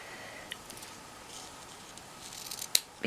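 Scissors snip through a lilac satin ribbon, a few faint light clicks and one sharper snip near the end, quiet and close with no talking.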